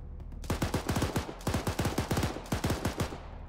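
Bursts of rapid machine gun fire ring out in a tactical military video game, three loud close volleys of evenly spaced shots separated by short pauses.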